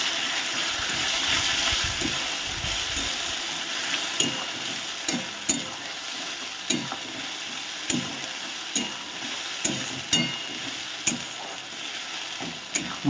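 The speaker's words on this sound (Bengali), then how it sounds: "এবারে আমি যে মশলাটা করে রেখেছিলাম এই মশলাটা এর মধ্যে দিয়ে দিচ্ছি।" Spice paste fries with onion and tomato for chicken kosha, a steady close sizzle broken by regular scraping strokes of a spatula against the pan every second or so.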